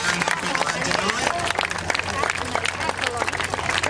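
An airshow audience claps and cheers as an aerobatic plane passes in front of them, a dense patter of applause under crowd chatter and an announcer's voice over a loudspeaker.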